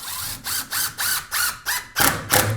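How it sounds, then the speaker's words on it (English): A power driver sets screws into the hinges of a fire-rated entry door, in short whirring bursts with a slight ratcheting edge, about seven pulses in quick succession, close and fairly loud, with no talking. "go ahead and remove the factory short screws and put one screw in each hinge"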